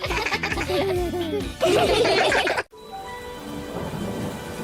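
Cartoon rain and a thunder rumble in a Peppa Pig scene, a loud crash building over the first seconds, then a sharp cut to steadier patter with a soft musical tone underneath.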